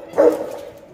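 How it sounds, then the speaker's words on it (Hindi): A single dog bark sounds from outside, a short, mid-pitched bow-wow at moderate distance that trails off quickly. "कुत्ते है बाहर"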